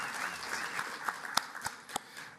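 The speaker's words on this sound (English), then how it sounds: "how about another round of applause for our all-women panel there on community health" Audience applause at a health summit honoring an all-women community health panel, a sparse scatter of claps with a few sharp, distinct hand claps standing out over a murmuring room.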